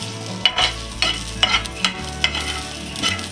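Chopped onion with ginger pieces and garlic is sautéed in a pan for misal pav, a spatula scraping the metal in irregular strokes over a soft sizzle, close and with no voices.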